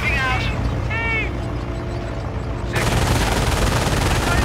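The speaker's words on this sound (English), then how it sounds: "MG fire!" Machine-gun fire in a Company of Heroes match, dense rattling bursts under a wash of battlefield noise, growing louder and more constant in the final couple of seconds amid a chaotic war soundscape.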